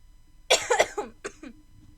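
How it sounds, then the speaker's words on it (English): A close, harsh cough burst with a couple of rapid hacks, followed by two shorter coughs, with quiet in between. "I am so sorry for the coughing."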